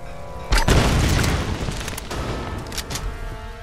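Grenade explosions in the Tomb Raider video game: one heavy, loud boom lands suddenly and leaves a long rumbling decay, with a few smaller crackling bursts following.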